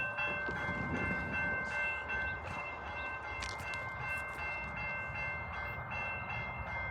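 A CSX freight train running light power passes a crossing at speed, its loud rumbling roar and rail noise steady and close throughout, with a faint horn tone and brief clatter riding on top.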